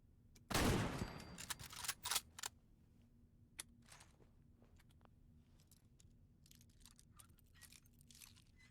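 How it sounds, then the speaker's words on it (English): Gunfire in Fallout 4, a loud burst of rapid shots near the start followed by a couple of sharper cracks, then quieter scattered clicks and faint game ambience. "Screw it, I'll just shoot it."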